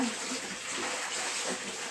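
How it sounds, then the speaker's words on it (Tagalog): Rinse water draining and pouring from basins during hand-washing of laundry, a steady rushing, splashing flow heard close up for about two seconds. "Pinapagas natin yung tubig."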